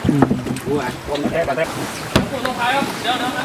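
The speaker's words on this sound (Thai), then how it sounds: "น้ำเชี่ยวเลยนะทางน้ำไหลเลย" Swift floodwater rushes through a flood-hit area of Nan province, Thailand, as a steady broadband wash running under people talking nearby throughout.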